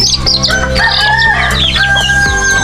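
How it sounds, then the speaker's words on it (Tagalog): Backyard poultry calling loudly and close, with clucks and crowing from a fighting rooster mixed with chirping birds, a dense, continuous flock din with no talking. "ito po yung manok na panabong"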